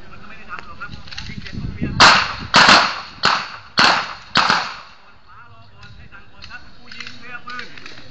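Five sharp Glock 19 pistol shots at an outdoor shooting range, loud and close, spaced roughly half a second apart, with a man's commands spoken before and after.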